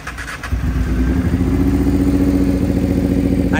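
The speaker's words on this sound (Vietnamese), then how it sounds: "nổ máy nghe hay lắm đó" A Honda Bros 400 motorcycle engine idles nearby, a steady low throbbing rumble that settles into an even putter after a brief rev at the start.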